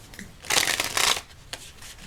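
Oracle cards are shuffled by hand in two or three quick, crisp riffling bursts separated by short pauses, close and fairly quiet.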